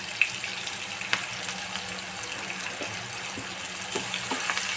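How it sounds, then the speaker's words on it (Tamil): Turmeric, chilli powder and salt sauté in oil over a low simmer for an Indian egg gravy, giving a soft, steady sizzle with a few faint clicks and stirring scrapes. "இது நல்லா சிம்மில் வச்சுட்டு இந்த ஆயில்லையே இது நல்லா வதங்கட்டும்."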